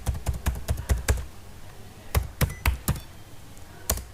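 Keys clatter on a computer keyboard as an email address and password are typed, in a quick run of taps, a short pause, then another burst and a final lone keystroke, close and clear.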